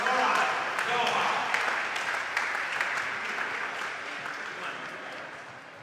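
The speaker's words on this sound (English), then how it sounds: "Ladies and gentlemen, huge round of applause for Marwan Gohar." Crowd applause at a professional squash match between Philadelphia Lightning and Greenwich Panthers: a dense burst of clapping that slowly tapers off, with a voice speaking over it.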